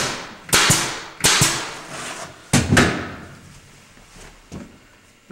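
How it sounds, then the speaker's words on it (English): An 18-gauge staple gun fires into luan plywood laid over a subfloor, four sharp, loud snapping shots at irregular intervals with a fainter fifth at the end, each followed by a brief rattling decay. "now that we've got this Luan stapled down"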